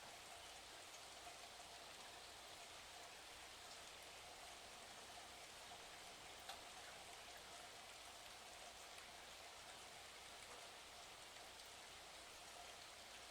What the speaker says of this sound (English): I am cleansed and purified by the soothing rhythm of the falling water.